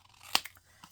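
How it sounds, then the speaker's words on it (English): Scissors snip a paper Post-it note with a single crisp cut, followed by a few faint softer snips in a quiet room. "I'm going to cut. Use this edge, putting the edge of the top of the scissors up against the Post-it note."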